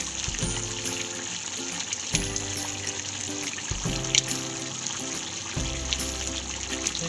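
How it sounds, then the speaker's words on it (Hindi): Boiled eggs go one by one into a simmering dhaba-style egg curry gravy. A steady bubbling sizzle is broken by several soft plopping thumps at regular intervals, close by and without speech. "अब अंडा हम ग्रेवी में डाल देंगे।"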